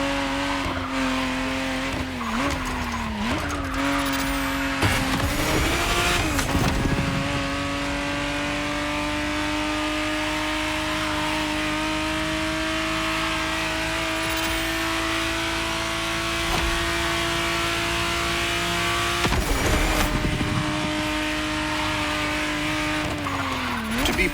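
A 1991 Ferrari 512 TR, the re-engineered Testarossa, drives in The Crew Motorfest, its engine holding a steady, close drone, with brief tire squeals and skids cutting in a few times.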